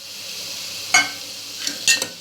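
Chickpeas tipped into hot masala in a pan give a steady sizzle with a few sharp bursts of stirring and scraping near the end, close and clear with no talk.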